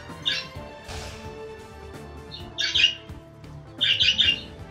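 Birds squawk outside an open window in three loud, close bursts, each under a second long, over a low steady hum of indoor background noise.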